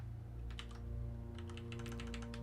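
Typing on a computer keyboard, two short bursts of quick key clicks over a steady low hum, moderately quiet and close.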